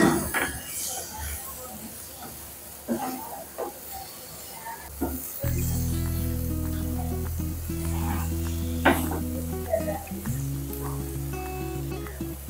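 Chopped tomatoes hit a hot pan for an eggplant bhaji, bursting into a loud, sustained sizzle after scattered clinks and spattering, close by and continuous to the end.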